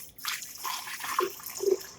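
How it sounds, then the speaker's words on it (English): About a cup of water is poured into a blender for a protein shake, a soft splashing and trickling pour with a few small drips, fairly quiet and close, with no speech. "I'm going to go ahead and add in at least a cup of water, or 8 ounces or so"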